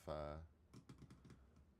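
A computer keyboard being typed on, a quick run of distinct key clicks just after a brief bit of talk, close and fairly quiet.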